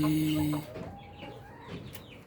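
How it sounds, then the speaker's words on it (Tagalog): Rhode Island Red rooster on a breeding farm giving a short, loud call at close range that breaks off quickly, followed by softer background clucking and faint farmyard noise. "Yan yung roster natin."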